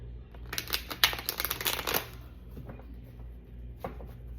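A deck of tarot cards is shuffled in a dense riffle of quick papery flicks, followed by a few softer taps as the cards settle, close and fairly quiet.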